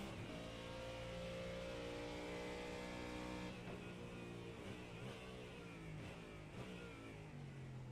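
GT3 race car engines in a sim racing game at Sebring roar steadily on the rundown into the hairpin. Revs wind down as the cars lift, with another car passing close by, and no talking.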